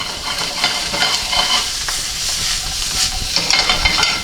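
Brussels sprouts sear in hot oil while being stirred in a pan, giving a close, steady sizzle with scraping stirring strokes throughout and no talk.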